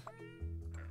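A single clear cat meow from the puzzle game Cats Organized Neatly, rising then settling into a sustained tone, close and moderately quiet.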